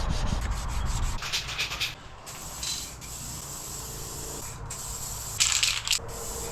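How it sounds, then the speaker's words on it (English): Aerosol spray can applying color-matched paint to a Harley-Davidson motorcycle part, a close hissing spray in short bursts over continuous background noise with rubbing and handling sounds, no talk. "I have some actual color match paint, so we're gonna try this and hopefully it looks better."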